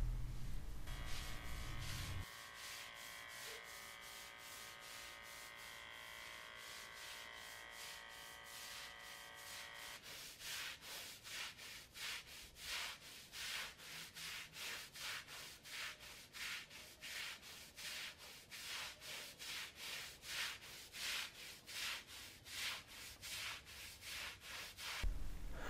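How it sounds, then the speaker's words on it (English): A pool deck is scrubbed with TSP cleaner, giving a rhythmic back-and-forth brushing rasp that repeats steadily for about fifteen seconds after a quieter stretch of steady noise, moderately close with no talk. "Then we disperse TSP and scrub the deck."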